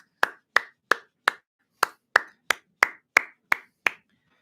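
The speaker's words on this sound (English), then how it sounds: "Round of applause for Max." Clapping during a livestream: about eleven sharp, separate hand claps in an even rhythm, close and fairly loud, with a short pause after the first four, and no voices.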